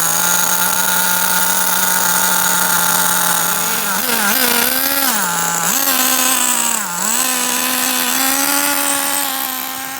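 A HPI RS4 3 Evo RC car with an SH-18 nitro engine screams at high pitch during break-in driving, loud and near, its revs dipping and rising several times as the throttle eases off and reopens.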